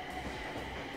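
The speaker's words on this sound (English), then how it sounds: "and a train just went by," A train rumbles past near a station in Japan, giving a brief, steady roar of wheels on rails. It sounds fairly faint and distant, with no talking.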